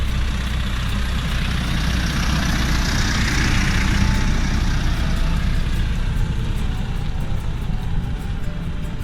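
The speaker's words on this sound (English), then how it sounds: "I think at the back of me there's a tractor" A tractor working a field in December, preparing the soil, rumbles past with a heavy low engine drone that stays loud and steady, a faint whine swelling midway as it passes, no voices.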